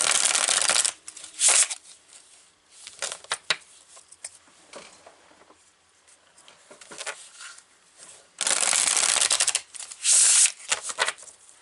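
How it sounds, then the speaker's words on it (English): Tarot cards are riffled and shuffled close up in several loud, rapid bursts, with quieter handling and soft card taps between them. "now we're going to pull cards from the After Tarot"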